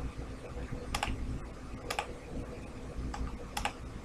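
Soft, steady typing on a computer keyboard during CAD design work, with a few sharper key strikes standing out at intervals, close and quiet, and no voice.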